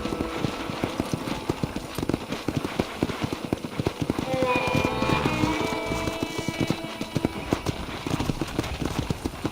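Steady, rhythmic clip-clop of horse hooves at a walk in Red Dead Redemption, loud and close, with a brief melodic chime rising in the middle.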